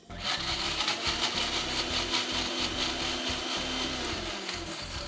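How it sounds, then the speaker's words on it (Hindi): A mixer grinder whirs loudly and steadily, blades grinding tomato and garlic with no water added, a harsh, continuous roar and no voices throughout. "इसको आपने मिक्सी में पीस लेना है"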